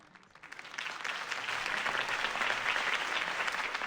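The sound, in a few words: crowd applause in a video game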